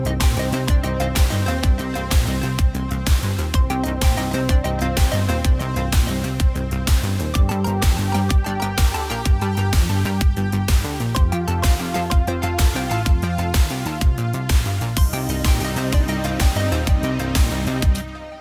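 Roland Alpha Juno 2 synthesizer line over a sustained pad, part of a song cover, a steady busy rhythmic sequence with pulsing beats running loud and continuous throughout.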